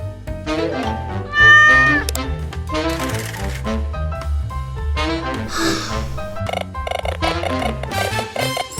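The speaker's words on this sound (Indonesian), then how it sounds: "Apa ini? Kucing." Cat meowing at an airport, heard as loud, drawn-out meows mixed with busy background music and other sounds, close and prominent.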